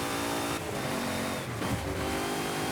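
A race car engine revving steadily in the Forza Horizon racing game, a loud continuous drone with harmonic whine that dips briefly twice as the driver shifts or lifts off, with no talking.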